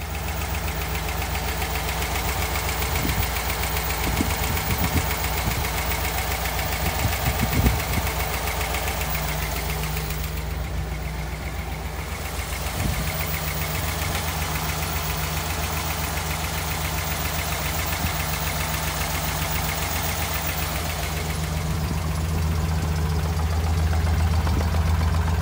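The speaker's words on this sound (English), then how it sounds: "let's get that engine started and take a look." A 1956 Ford Thunderbird's engine idles steadily and loudly for a long stretch, with a deep rumbling vibration and slight shifts in tone, no talking.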